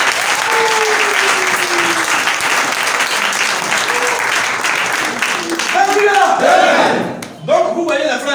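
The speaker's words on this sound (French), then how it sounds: "On applaudit les frères." A crowd applauds and cheers for the brothers at a gathering led by a preacher, loud sustained clapping with shouts, then voices and a speaker's talk rising as the ovation fades.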